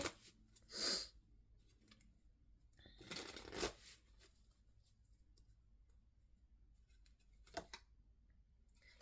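Oracle cards of the Magic of You deck being shuffled, three short, faint papery riffling bursts spaced a few seconds apart in an otherwise quiet room.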